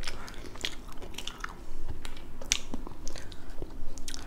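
Someone bites into and chews Five Guys fries close to the mic, with a steady run of wet crunches and mastication sounds and no talking.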